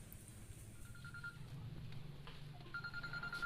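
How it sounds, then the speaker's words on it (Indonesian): A quiet telephone ringing, two brief electronic rings separated by a pause, low under a steady background hum with no talking. "Siapa nih yang telepon gue?"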